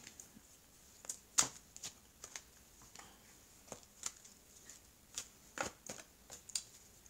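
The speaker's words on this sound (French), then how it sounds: "je vais prendre maintenant les cartes de l'oracle coup de cœur" Oracle cards are handled and shuffled close by, giving soft, scattered flicks and taps with a few sharper snaps, quiet and irregular with no talking.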